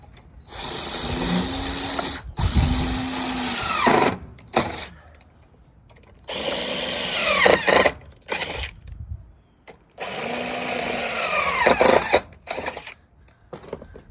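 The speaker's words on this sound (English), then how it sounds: "I'm going to take my impact with a metal bit in it" An impact driver with a metal bit whirs through metal siding in three long bursts, each ending with a grinding bite, separated by brief pauses and small clatters.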